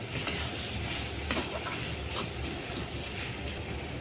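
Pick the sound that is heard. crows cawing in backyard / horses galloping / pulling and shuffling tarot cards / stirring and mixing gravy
stirring and mixing gravy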